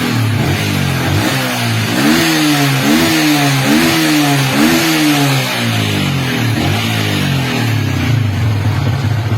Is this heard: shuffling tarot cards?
no